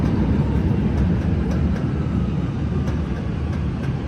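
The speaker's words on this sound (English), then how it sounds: "And here comes a purple line train" A CTA Purple Line train pulls into Armitage station in Chicago with a loud, steady rumble of wheels and rails, a few faint clicks and squeals riding over the continuous noise.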